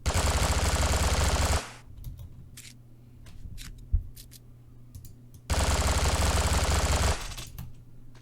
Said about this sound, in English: Here's one of the submachine guns,